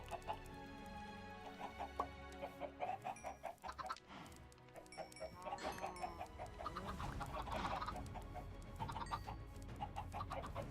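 Several chickens in the video game Hytale cluck and squawk in quick, uneven bursts from a pen, the clucking busy and close, building to a louder flurry midway.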